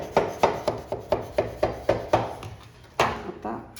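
Knife tapping and cutting through ghee Mysore pak on a plate, about ten sharp evenly spaced knocks in a steady rhythm, close and clear, with a short pause before a final louder strike.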